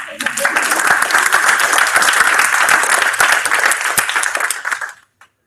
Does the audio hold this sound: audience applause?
yes